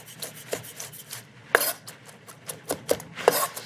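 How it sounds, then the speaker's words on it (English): A knife chops vegetables on a home cutting board in a few quiet, irregular taps and scrapes, with soft knocks spaced unevenly and no talking. "let's get started doing a little chopping"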